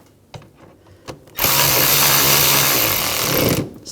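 A power tool drives a screw tight on the engine of a 2007-2013 BMW X5 3.0L inline-six during spark plug replacement: a few faint clicks, then a loud, steady whir lasting about two seconds before stopping.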